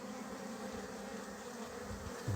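Honeybees from a new swarm in a hive box hum softly in a continuous, faint buzz, a low steady drone with no voices over it.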